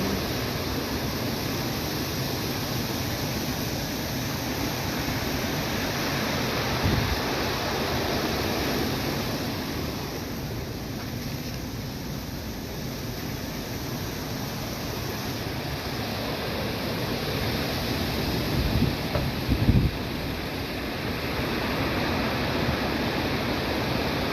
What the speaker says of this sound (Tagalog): Malakas ng hangin, may kasamang ulan